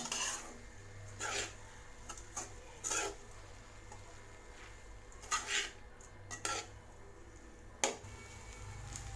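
Scraping and clinking of a utensil stirring beetroot rice in a pan, a few short strokes spread out over steady background hum.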